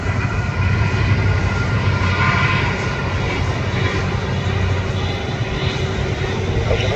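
Airliner taking off at Guarulhos airport, a loud steady jet engine roar on the takeoff run that holds strong and close throughout.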